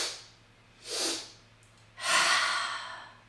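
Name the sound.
physiological sigh breathing: two inhales then a long exhale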